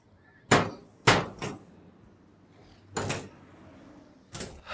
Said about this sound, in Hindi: अरे ये हथौड़े क्यों मार रही है?